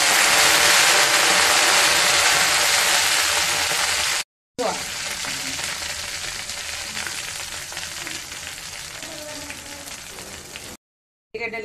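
Curry leaves frying in oil, a loud spattering sizzle that eases slightly after a brief cut, with faint stirring and a couple of short gaps in the sound.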